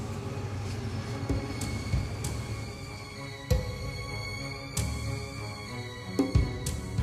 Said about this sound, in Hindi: पीछे रेलगाड़ी की आवाज सुनाई दे रही है। पास ही एक ट्रैक है जहां से ट्रेन गुजर रही है।